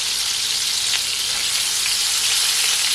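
Jerk chicken wings sizzle steadily in a hot frying pan as they are flipped, a dense, close, continuous crackle of frying with no voices.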